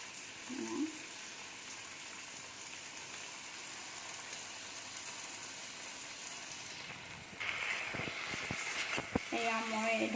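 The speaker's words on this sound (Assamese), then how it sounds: "এয়া মই এই ধৰণে ধুনীয়াকৈ ফ্ৰাই কৰি ল'ম।" Paneer pieces fry in a pan with a steady, soft sizzle that grows louder and crackles more toward the end, while someone talks over it.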